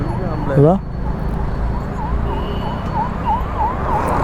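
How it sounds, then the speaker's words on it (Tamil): An ambulance siren wails in a fast, steady up-and-down cycle close by at a highway bike crash scene in Thoppur, with a short voice near the start and traffic rumble underneath. "ஆம்புலன்ஸ் வந்துருச்சு"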